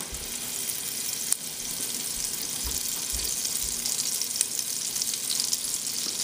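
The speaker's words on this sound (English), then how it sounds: "To this I'm gonna go ahead and add our butter and let it melt" Butter melting in a pot on the stove for mung dal soup, a faint, steady sizzle with soft crackling throughout and no talking.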